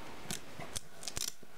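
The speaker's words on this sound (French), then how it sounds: "On pose, on déchire." Paper or craft material torn by hand in several short, crisp rips, spaced apart and close up, with quiet pauses between them and no talking.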